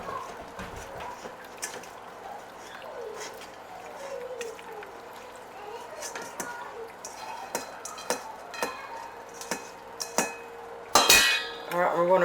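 A spoon stirs macaroni and beef mince in a pot, producing soft wet squelches and scattered metallic clinks and scrapes against the pot, ending in a louder burst of rattling, with faint voices in the background.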